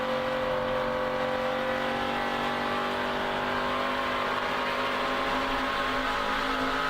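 NASCAR Craftsman Truck Series race trucks roar around the track in a sustained, distant-sounding engine drone with shifting harmonic pitch, heard continuously without talk.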